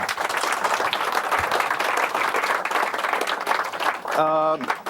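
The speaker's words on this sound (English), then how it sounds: "you'll get a nice round of applause for that." Audience applause at a magic performance swells into a full, steady round of clapping that fills the room, cut off by a brief burst of voice near the end.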